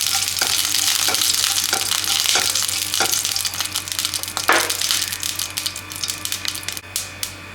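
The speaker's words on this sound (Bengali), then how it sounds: "আর ফোড়নটা ভাজা ভাজা করে নেবো" Mustard seeds and a dried chili fry in hot oil for a fish curry tempering, a steady close sizzle broken by sharp pops and crackles that grow more frequent toward the end.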